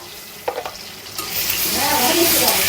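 Shrimp curry with potato, pointed gourd and drumstick cooking on a stove as ginger garlic paste goes in: a few utensil clinks, then a rising loud sizzle with bubbling, close by.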